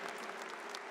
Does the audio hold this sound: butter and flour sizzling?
no